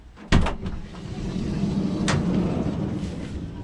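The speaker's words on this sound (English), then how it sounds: "Opening the door one more time." Door of a large Sprinter van conversion opening with a sharp latch clunk near the start, a second softer click a moment later, then steady low rumbling room noise; no talk.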